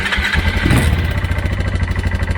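A Kawasaki Bayou 220 ATV, a barn find under restoration, cranks and its small engine catches, then settles into a loud, close, pulsing idle.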